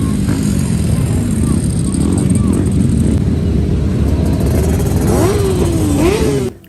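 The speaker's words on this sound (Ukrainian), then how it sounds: "Мотоцикли скрізь, ревіння двигунів і відчуття швидкості навіть у повітрі." Motorcycle engines roar at the Jerez Grand Prix in Spain, a loud continuous din of revving bikes with rising and falling engine pitches passing close by, cutting off abruptly at the end.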